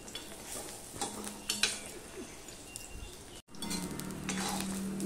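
Soft sizzling of ash gourd slices frying, with occasional clinks of a utensil against a pan, fairly quiet and steady, no voices.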